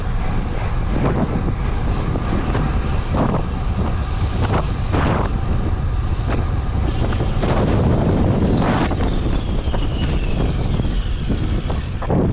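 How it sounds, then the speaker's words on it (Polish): Strong wind roars steadily and loudly across a drone's microphone during cycling, a constant buffeting rush with occasional gusty thumps throughout. "Jak słyszycie wiatr jest dość mocny."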